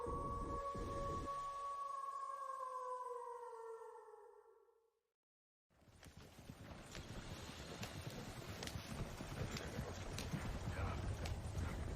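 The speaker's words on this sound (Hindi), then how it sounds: "जैसे जैसे घोड़ा गाड़ी काली घाटी की ओर बढ़ रही थी" Horse-drawn carriage on a night road toward a valley, hooves clip-clopping in a steady rhythm amid rattling noise after a sustained droning tone fades to brief silence.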